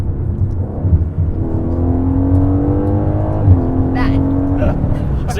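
A 2019 Aston Martin Vantage engine revving close by, a loud steady growl that climbs in pitch and then drops back, with brief talk near the end.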